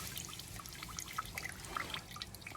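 Water draining and trickling out of a rusty body panel on a Toyota Celica TA22 2TG during rust repair, a steady liquid splatter with scattered drips close by and no talk.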